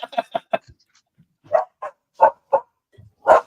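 A dog barks in short bursts, a quick cluster of four or five sharp woofs followed after a pause by several louder, spaced barks, close and clear with silence between.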